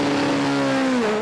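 A Peugeot Super 2000 rally car's engine revs hard at high RPM, one sustained, loud, close tone that holds steady and then drops in pitch near the end, with no voices.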